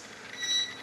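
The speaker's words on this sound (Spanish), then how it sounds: "Ese pitido está diciendo que hay corriente en el interruptor" Promax multimeter's non-contact voltage detector sounding a high electronic beep as it senses AC current at a wall switch; a short, thin tone rises briefly over faint background hiss, with no talking.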